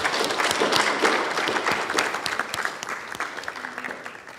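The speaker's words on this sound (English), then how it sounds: "Should we give Hazel a round of applause?" Steady applause from a room full of people at a church worship service, a dense patter of clapping that holds throughout and tapers slightly near the end.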